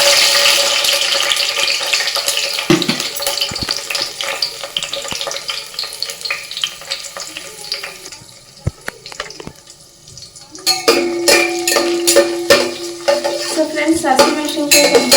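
Five green chillies sizzle in hot oil as a tempering for Sunday mutton biryani, with a steady crackle, scattered clinks of a utensil against the pan and stirring, then louder frying resumes near the end.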